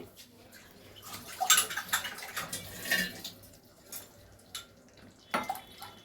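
A cup is rinsed under running water in a kitchen, intermittent splashing bursts and a few clinks against a quiet background, some fairly close and loud, with no clear talking.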